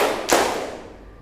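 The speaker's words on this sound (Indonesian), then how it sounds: "Tepuk 3 kali." One loud, crisp clap from a group playing a clapping game, sounding almost as a single thud, with a short room echo trailing after.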